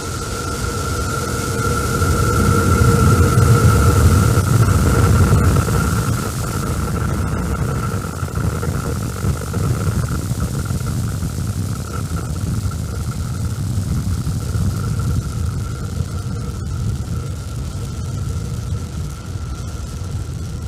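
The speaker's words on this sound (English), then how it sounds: "Starship test vehicle number 11 ascending over Starbase in South Texas" A SpaceX Starship SN11 test vehicle lifting off and climbing over Starbase in South Texas, heard as a loud, steady broadband roar that swells early and then holds as a continuous rumble with a faint tonal hum.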